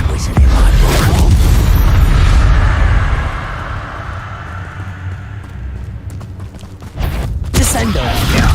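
Confringo fire spell blasts in Hogwarts Legacy during a fight, heavy booming impacts and rumbling debris with a loud burst near the start and another late on, under shouted voices.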